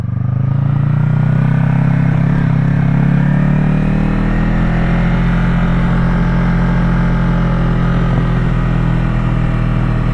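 Motorcycle engine accelerating through a high-speed lean turn, a loud steady drone with the pitch climbing gradually, wind rush throughout, close and continuous without talk.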